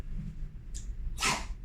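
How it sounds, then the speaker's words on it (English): A dog makes a short sneezing snort, a quick faint puff followed by a louder burst, close by in a quiet indoor room. "That was my dog."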